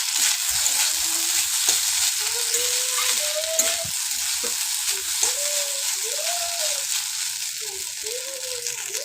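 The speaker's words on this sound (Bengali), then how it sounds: "চলো ডিমটা দিয়ে খুব ভালো করে আবার একটু ভেজে নেব ভাতটা" Rice and a fried egg stir-fried together in a hot pan, giving a steady, close sizzle with repeated scraping and stirring strokes from a spatula throughout.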